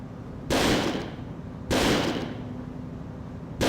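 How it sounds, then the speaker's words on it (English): Shots fired on a shooting range in the video game Second Sight: three loud, sharp reports about a second apart, each with a short ringing tail, with no talk. "take this ammo and fire it all into the range"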